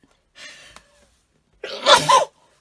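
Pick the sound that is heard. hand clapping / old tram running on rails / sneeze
sneeze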